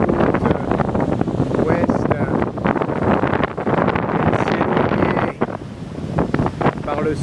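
Strong wind buffets the microphone on a harbour jetty the day after a cyclone, a loud steady roar with gusts, with faint sea and surf noise beneath.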